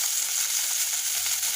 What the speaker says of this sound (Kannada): ಫ್ರೈ ಮಾಡಿಬಿಟ್ಟು ಟೊಮೆಟೊ ಹಾಕ್ಕೊಂಡಿದ್ದೀನಿ.